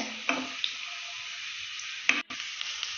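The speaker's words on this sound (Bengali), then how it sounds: "একটু ভালো করে ফ্রাই করে নেবো হালকা করে।" Chopped ginger fries in a pan with a soft steady sizzle, broken by a few brief clinks and stirring scrapes close by.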